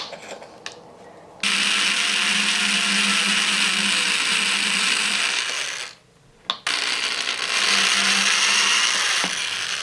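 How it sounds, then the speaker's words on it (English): A small drill bores holes through a thin aluminium soda-can blade bait lure, a loud steady high whine running close up, broken by a short stop and restart partway through. "you wanna drill your holes out"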